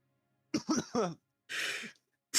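A few quick vocal bursts, a short laugh-like sputter, followed by a breathy cough and the start of another.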